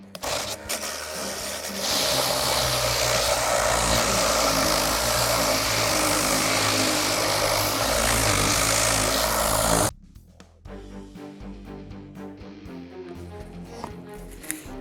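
Vevor cordless buffer sanding with a 60 grit disc, a loud continuous motor whir and abrasive hiss that cuts off abruptly, leaving quieter scattered handling noise.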